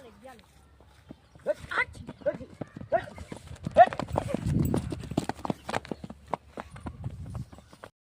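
A mare walks with a rhythmic clip-clop of hooves close by, the steps running beneath people talking for much of the time.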